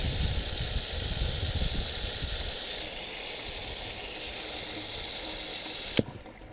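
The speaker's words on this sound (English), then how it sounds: "It's draining." Water drains from a sink in a repair workshop under construction, a steady rushing gurgle that stays even, then a sharp knock near the end before it cuts to near-quiet.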